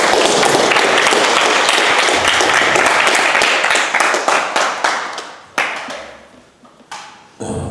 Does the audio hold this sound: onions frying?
no